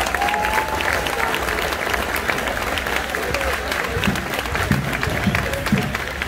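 A church congregation applauds steadily in praise of the Lord, a dense, continuous wash of clapping that fills the room from start to finish, with a few voices mixed in.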